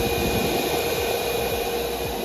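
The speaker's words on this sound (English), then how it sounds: "Anytime I pull this trigger on this miter saw, the vacuum clicks on and stays on for about 10 seconds." A shop vacuum, switched on automatically by the trigger of a DeWalt miter saw, runs with a steady, loud whooshing roar and a thin whine that stays constant throughout.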